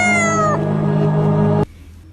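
One of three cats approaching a room for food gives a single long, drawn-out meow up close that falls in pitch, then cuts off abruptly, leaving quiet.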